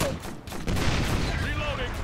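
Dense, continuous gunfire from the video game Operation Flashpoint: Red River, a loud, unbroken roar of shots that sits close in the mix, with voices faintly audible underneath.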